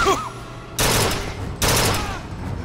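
A weapon in BioShock Infinite: Burial at Sea fires two loud, heavy bursts about a second apart, each trailing off into a rumbling decay over quieter game ambience.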